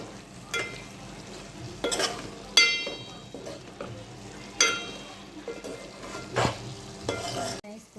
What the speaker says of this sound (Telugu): పన్నీర్ ముక్కలన్నీ అందులో వేసుకోవాలి. ఇప్పుడు మంచిగా కలుపుకోవాలి.